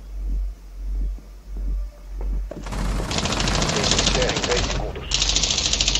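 Gunfire in Rainbow Six Siege, opening with spaced heavy thuds before a loud sustained burst of rapid automatic shots that breaks briefly and resumes, with voices talking underneath.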